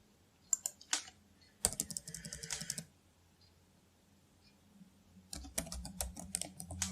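Quick bursts of keystrokes on a computer keyboard, close and fairly quiet, arriving in three separate runs with silent pauses between them.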